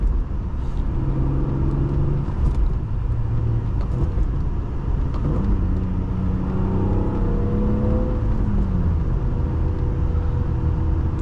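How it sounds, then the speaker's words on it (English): A 1999 BMW M3 E36 engine revs as it downshifts from fourth to third gear, its note sweeping up in pitch and then settling into a loud, steady drone close by with no talking. "I love how immediate this throttle response is, going from 4th to 3rd."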